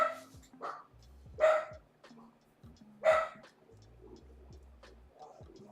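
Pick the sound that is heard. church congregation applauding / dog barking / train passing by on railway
dog barking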